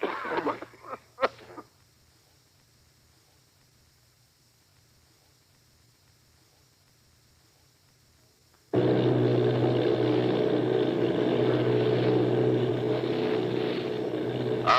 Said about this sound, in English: Army bombing plane V-843 off Bayonne, New Jersey.